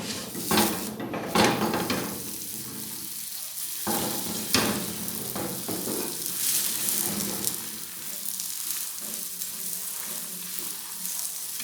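Mooli paratha fries in desi ghee in a pan over medium flame, with a continuous close sizzle broken by a few sharp knocks and scrapes of a utensil against the pan.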